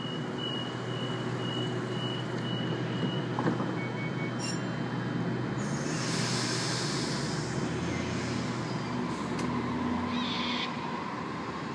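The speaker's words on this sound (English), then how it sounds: "A61 departing platform 1" A Sydney Trains service pulling out of platform 1 at Pennant Hills station, a steady low engine and wheel rumble throughout with faint beeps and a brief higher whine, heard from the platform with no talk.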